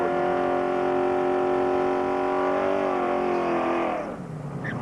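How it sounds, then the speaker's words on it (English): A V8 race car with a Chev small block does a burnout at a 1997 dirt-track qualifying round, giving a loud sustained engine roar held at high revs that drops off near the end. "real good burnout."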